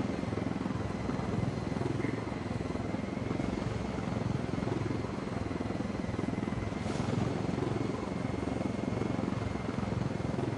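A helicopter landing in the Ghost Recon video game churns out a continuous, even rotor whir and engine drone, loud and unbroken throughout with no talk over it.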